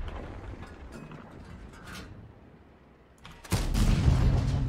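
A tank cannon fires in a video game: one sudden, loud boom that rolls on as a sustained rumble after a quieter stretch of mechanical background noise.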